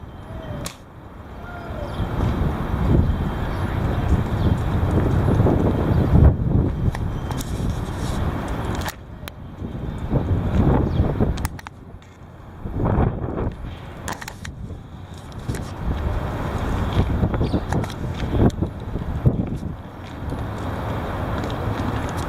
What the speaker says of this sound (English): Here it comes. The heavy wind.